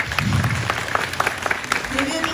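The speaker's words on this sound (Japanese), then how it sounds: "拍手。" Audience clapping at a Shinshu Pro-Wrestling show during the 69th Matsushiro Sanada festival, a steady patter of hand claps lasting a couple of seconds with a faint voice underneath.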